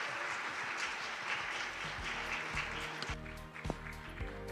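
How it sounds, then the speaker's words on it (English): Audience applause in a forum hall after a Korean fusion music performance at the PyeongChang Peace Forum, a steady broad wash of clapping throughout with low tonal music or hum underneath. "Another big round of applause, please."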